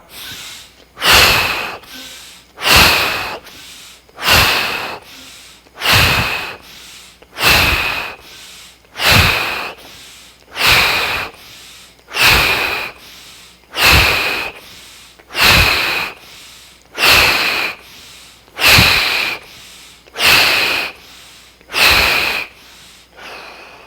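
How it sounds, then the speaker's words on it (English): A guided synchronous breathing exercise: fourteen evenly spaced, loud breaths repeat steadily, each a rushing inhale and exhale cycle about every one and a half seconds, with no talking. "Synchronous breathing. Inhale up, exhale down."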